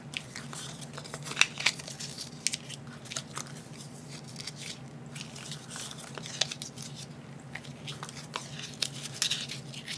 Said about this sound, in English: now what I'm going to do is just crumble these up